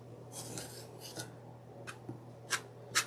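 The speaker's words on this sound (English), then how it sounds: "you want to trim just a very little off so that you get two straight edges" Rotary cutter or blade trimming the edge of a quilt block's fabric along a ruler, a few faint soft scraping strokes close by, ending with two sharper swipes in a quiet room.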